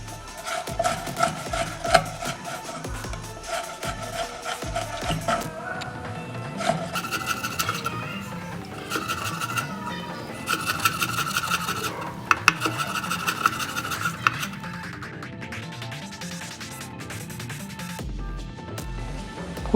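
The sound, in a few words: knife chopping chicken into small pieces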